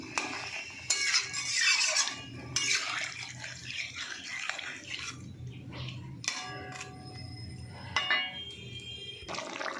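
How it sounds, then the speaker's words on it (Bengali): Water pours into a fish curry mixture in a pan, a steady close splashing trickle that comes in bursts with brief gaps, mixed with some clinking of utensils. "আমি জলটা দিয়ে দেবো"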